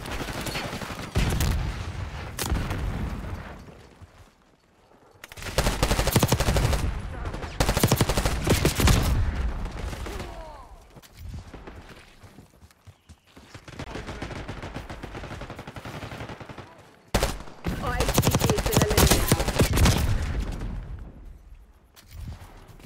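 Rapid bursts of automatic gunfire in Call of Duty Black Ops 6 multiplayer, with an MP5 on the Derelict map, loud dense volleys separated by brief lulls and one sharp isolated crack midway.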